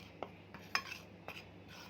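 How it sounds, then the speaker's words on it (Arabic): Fish seasoning ingredients being mixed in a bowl, with four or five light spoon-on-bowl clinks in a loose rhythm, close and fairly quiet with no talking. "واقلب بقى بسم الله مكوناتنا كده مع بعضها"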